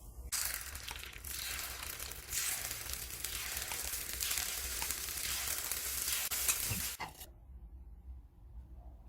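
Paniyaram batter made from Kanchipuram idli batter sizzles steadily in an iron pan over moderate heat, a close, even frying hiss that runs for several seconds and then cuts off abruptly.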